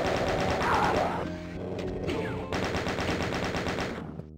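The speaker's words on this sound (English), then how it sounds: "Maybe I should use some more chain gun, maybe?" Rapid, steady bursts of chain gun fire in the Voxel Doom 2 video game, a continuous rattling stream of close, loud shots with a brief pause midway.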